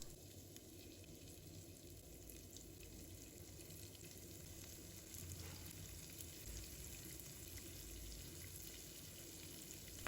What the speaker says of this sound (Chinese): 把带鱼一块一块的下入锅中